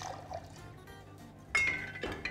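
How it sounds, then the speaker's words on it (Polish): Gin and lemon juice are poured into a cocktail shaker for a gin drink, a faint, short liquid trickle followed by a light clink of glass. "potrzebujemy shaker i wlewamy po kolei. 40 ml ginu. 30 ml soku z cytryny."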